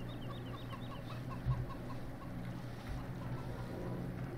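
Chickens cluck in a farm yard in the Farming Simulator 17 video game, with a repeated short clucking pattern over a steady low engine-like hum that runs throughout.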